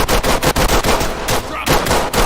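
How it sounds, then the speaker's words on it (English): Rapid bursts of gunfire in Rainbow Six Siege crack loudly and close, a dense string of sharp shots with short pauses between volleys. "I'm hearing shots. I'm seeing my dude shoot."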